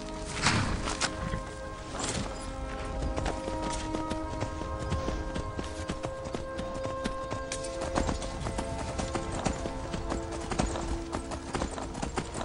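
A saddled horse in Skyrim, its hooves clip-clopping steadily in a walking rhythm, near and clear, over a constant low game ambience with faint tonal background sounds and no speech.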